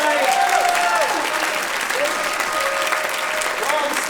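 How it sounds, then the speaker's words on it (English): An audience at a storytelling night claps in a loud, dense, sustained round of applause that fills the room from start to finish, with a few faint voices mixed in. "can we get a big round of applause for all the storytellers tonight?"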